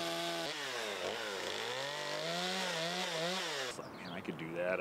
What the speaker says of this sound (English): Chainsaws aren't normally the sound you'd expect to hear as you drive down Vine Street.